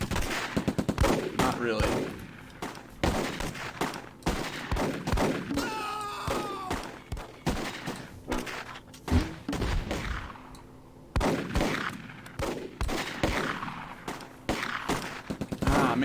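Rifle squad gunfire in the Close Combat war game, repeated sharp shots and bursts scattered through the stretch, with someone talking over parts of it.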